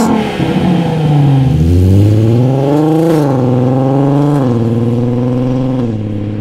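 Engine of a Volkswagen Jetta, recently back from transmission repair and still carrying a speed sensor fault, revs up loud and close, rising and falling in pitch through several sustained pulls with no talk.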